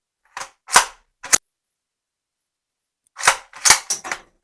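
A sharp Remington 700 .308 Winchester rifle shot cracks out among a few quicker mechanical clacks, each burst separated by short stretches of silence.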